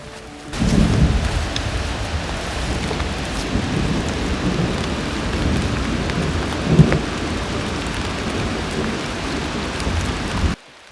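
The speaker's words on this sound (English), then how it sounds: "It's raining down there in the Vallecito Creek Valley." Heavy rain pours down in a mountain wilderness valley during a storm, a steady hiss with a low rumble of thunder rolling through midway, close and loud before cutting off abruptly.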